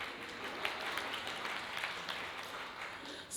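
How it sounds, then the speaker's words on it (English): Audience applause at a feminist panel at the Florida NOW annual conference, steady clapping from a crowd sustained throughout without a break. "You can clap for that."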